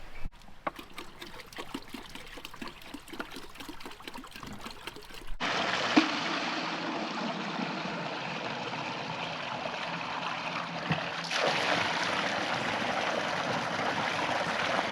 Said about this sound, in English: there's loads of locals coming and filling up their bottles from the spring